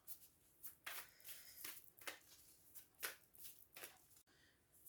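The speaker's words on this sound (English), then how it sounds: "still shuffling the Moonology cards, Oracle deck" A deck of Moonology oracle cards being shuffled up close, giving soft repeated riffling bursts at an irregular pace, faint and quiet with no talking.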